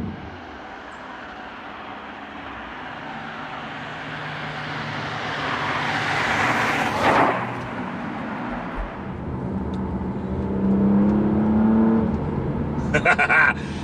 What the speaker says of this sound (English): the sports exhaust on this car sounds absolutely brilliant